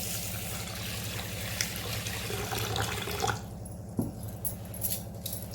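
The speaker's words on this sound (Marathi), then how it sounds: "अगदी हाताने चळून अशा पद्धतीने आपण हे तांदूळ धुणार आहोत" Rice and urad dal are washed by hand in water for a Konkani dish, giving steady soft swishing and trickling that thins after a few seconds into quieter drips and light sloshes.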